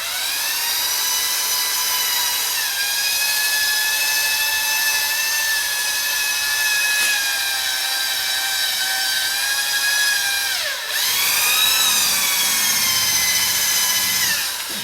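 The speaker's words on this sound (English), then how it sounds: "we're buffing out all of the sanding marks we got on there now" A power buffer polishes sanding marks off a plastic headlight lens with a steady, high whining drone that runs continuously. The pitch dips briefly near the end, then recovers. Close and loud, with no voices.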